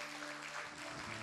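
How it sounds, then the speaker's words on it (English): A church congregation in Manila claps together through a service, a dense steady patter of hands at moderate level with a sustained tonal hum underneath. "We just give God our very best clap offering for that."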